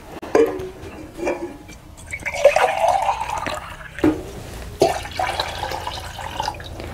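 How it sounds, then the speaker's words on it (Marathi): A further jug of water splashes into a cooking pot on a wood-fired clay stove, a swelling pour in the middle of the clip framed by a few metallic clinks of the vessel, close and without speech. "अजून एक तांब्या घालते"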